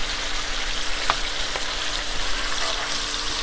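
Beef pieces sizzle steadily as they brown in a hot pan, a constant close frying hiss with a couple of brief sharper pops, no voices.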